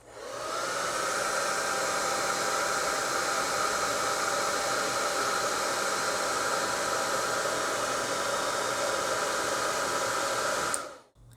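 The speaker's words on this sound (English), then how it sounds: "Give it a quick blast from the hairdryer between each application." A hair dryer, used to dry paint on a model, blows at a steady, loud whoosh after a brief start, running continuously before clicking off near the end.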